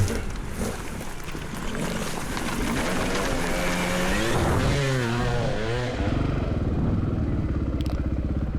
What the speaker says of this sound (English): We get to just keep letting the bikes roll.